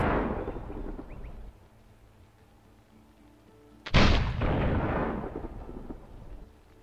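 A single heavy blast in Risen 2 bursts a temple open, a sudden deep boom that rolls away into a long rumbling decay after a quiet stretch, with an earlier fading rumble at the start.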